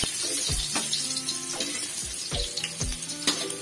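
Garlic sautés in a pan as the first step of spicy squid adobo. It sizzles softly and steadily under repeated scrapes and knocks of a spatula against the pan, close and without voices.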